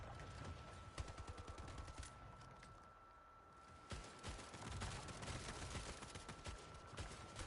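Rapid gunfire rattles steadily in the Splitgate shooter game, dense bursts of shots that ease briefly before resuming at full intensity, with no one speaking.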